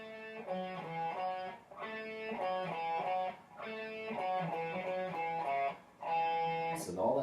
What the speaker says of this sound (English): the next part we have a riff that's played underneath the guitar solo